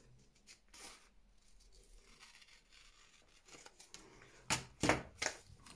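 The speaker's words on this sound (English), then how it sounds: "I'm just going to snip this bit off." Scissors snip through cereal box card for a junk journal tag. After quiet rustling, a few crisp, close cuts come in quick succession near the end.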